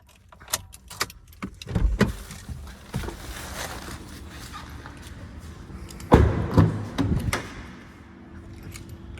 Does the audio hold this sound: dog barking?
no